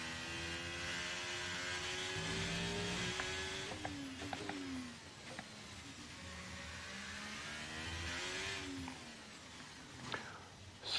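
A race car drives down a circuit and accelerates, its engine note rising and shifting through gears in a steady, fairly quiet whine with tire and wind noise, and no speech.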